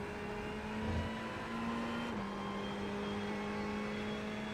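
Steady engine drone of a car lapping a track in a VR racing sim, MX-5 Cup car or GT4 class, holding a continuous tone with a small pitch shift partway through, moderate and unbroken with no talk.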